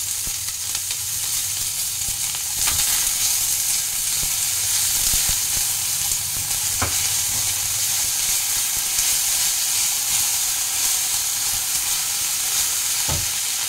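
Ginger paste and green chili fry in a pan for Bengali vegetable chop, making a continuous close sizzle with faint stirring scrapes and no talking.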